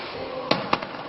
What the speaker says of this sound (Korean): 예고된 불꽃놀이가 펼쳐지고